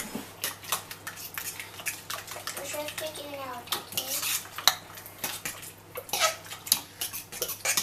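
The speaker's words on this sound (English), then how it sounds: "Right, so we mix that into the puree. Give it a good mix." Spoon scraping and clinking against a bowl while pumpkin pie filling is stirred into the puree, a steady run of small knocks and scrapes with a brief voice in the middle.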